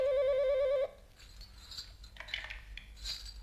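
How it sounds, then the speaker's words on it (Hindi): A telephone in a Pakistani tele-theatre drama rings loud and close with a warbling electronic tone, ending abruptly after less than a second, followed by quieter room noise and faint clatter. "तुम्हारा फोन है सिकंदरा?"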